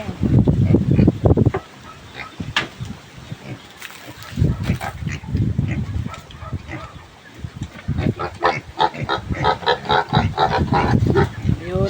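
Pigs grunting and squealing in bursts, mixed with people talking and shuffling movement nearby.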